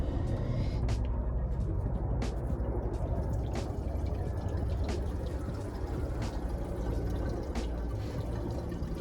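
Fluid pours steadily into a 1979 Ford Bronco under restoration, making a continuous close trickle and gurgle with occasional sharp drips or clicks, and no talking.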